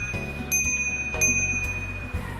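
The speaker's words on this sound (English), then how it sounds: "Considering this is meant for urban commute, they do offer a bell for your safety." Bell of a Polygon urban commuter bicycle, two bright ringing strikes about half a second apart with a sustained tone over steady background noise.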